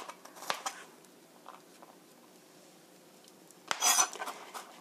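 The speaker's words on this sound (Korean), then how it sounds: "갈릭, 마늘 두 쪽도 얇게 슬라이스해서" Two garlic cloves are sliced thinly with a kitchen knife, giving a couple of quick, quiet bursts of blade tapping on a board with near silence between them.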